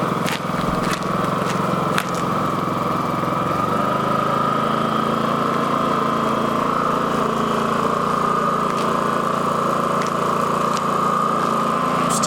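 A Champion 4500W dual fuel generator idling under no load with eco mode off, a steady, even engine hum with a constant mid-pitched drone and a few faint clicks, running alone and unchanging throughout.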